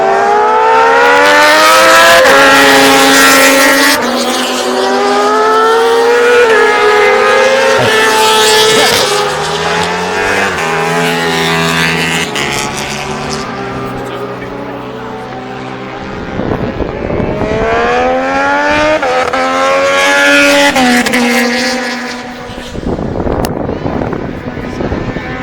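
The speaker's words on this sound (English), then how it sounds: "It's two superbikes." Two British Superbike racing motorcycles at Oulton Park roar past close by, their engines screaming at high revs with rising and falling pitch as they accelerate and shift through gears; a brief lull comes before the engine noise swells again.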